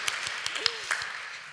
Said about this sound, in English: please clap for Emma.